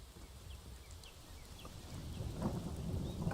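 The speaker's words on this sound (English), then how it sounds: "Because it's raining now." Rain pours in Skyrim, a broad wash of drops joined by a low rumble of thunder that swells louder toward the end, with faint bird-like chirps early on and no voices.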